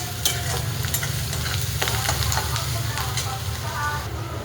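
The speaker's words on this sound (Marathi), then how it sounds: "आता आपला कांदा टाकून घेते. कांद्याचा एक जीव करते. मिरची छान असं ढवळून घेते." Onion and green chilli stirred in a frying pan while making besan pitla, a steady loud sizzle under a low rumble, with intermittent scrapes and taps of the spoon.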